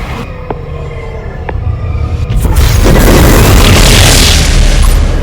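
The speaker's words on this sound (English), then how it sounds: "Resonator destroyed." A loud synthetic boom from the mobile game Ingress Prime as a resonator is destroyed, building into a heavy, sustained rumbling blast that fills the second half.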